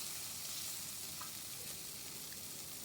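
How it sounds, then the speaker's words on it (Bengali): Ginger paste and spices frying in oil in a pan for an egg curry, a steady soft sizzle with a faint hiss throughout, quiet and continuous with no voices. "ভালো করে মশলাটা কষিয়ে নেব, তেল ছাড়া ভাব হওয়া পর্যন্ত।"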